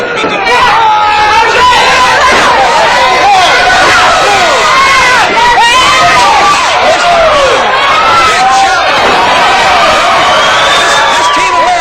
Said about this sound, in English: the chant USA is a cheer for Team America